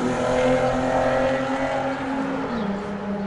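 A fast car rushing past nearby on a windy day, a loud engine drone whose pitch slides downward as it goes by, lasting a few seconds.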